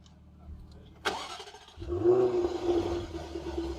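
A 2021 Jaguar F-Type sports car engine cranks and starts after a sharp click, then settles into a steady, moderately loud running hum with a slight rev.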